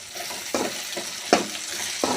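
Raw green plantain stir-fry frying in oil in a pan while being stirred, with a steady sizzle and three or four scraping strokes spaced about a second apart.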